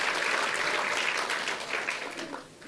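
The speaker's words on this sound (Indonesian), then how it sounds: "Yang percaya berikan tepuk tangan buat nama Tuhan." Congregation applause during a church service, a soft, dense patter of many hands clapping heard from a distance, steady for about two seconds before tapering off.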